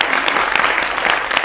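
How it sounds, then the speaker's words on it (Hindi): A studio audience on a Hindi news debate show welcomes guests with loud, dense, continuous clapping. "जोरदार तालियों के साथ आप उनका स्वागत करें।"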